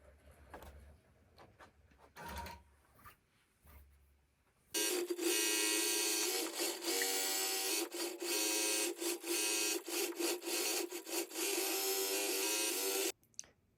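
A Gammill longarm quilting machine stitching a quilt, a steady loud mechanical whirring hum that runs for about eight seconds, briefly dipping at intervals, preceded by quiet knocks and handling sounds.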